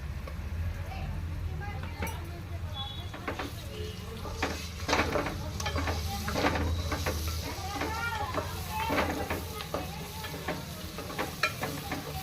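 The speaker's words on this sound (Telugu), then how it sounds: "పేస్ట్ ఫ్రై అవుతుంది కదా" Ginger garlic paste frying in a pan for coconut pulao, a close sizzle with stirring and scraping of a spoon against the pan, plus a few clinks, while a person talks over it.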